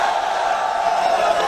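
A large crowd chanting political slogans at an outdoor rally in Azad Kashmir, a dense, continuous roar of many voices at fairly loud volume across the whole short stretch.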